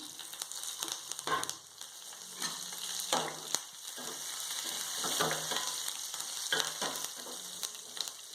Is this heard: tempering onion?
yes